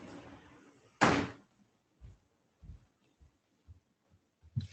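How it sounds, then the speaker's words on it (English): Indoor room door opened: a latch rattle, then a sharp thump as the door swings, followed by several soft, scattered bumps and knocks, close and fairly quiet. "I'm just gonna open my door real quick because I need the air conditioning"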